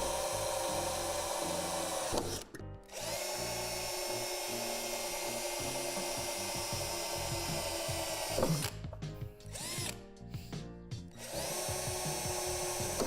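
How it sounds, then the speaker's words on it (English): A drill bores out divots in a metal shed door, whirring loudly and steadily, cutting out for a moment near the start and again in several short breaks toward the end. "With the provided drill bit, drill out these divots at the top and bottom of the door."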